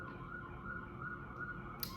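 Emergency siren wailing outside, a steady continuous tone that holds at a moderate level throughout, with a short sharp click near the end and no speech.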